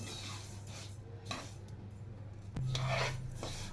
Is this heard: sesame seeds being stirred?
yes